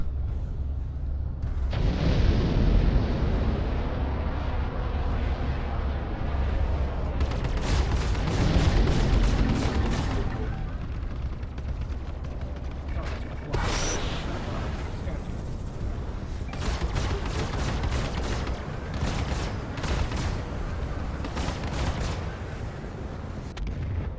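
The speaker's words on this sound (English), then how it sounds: "Let's start the attack with a missile." Missile attack in the Star Citizen space combat game, Arena Commander mode, flying an Aurora LN: continuous loud roaring engine and weapon noise with sharp bursts of rapid gunfire and booming impacts throughout.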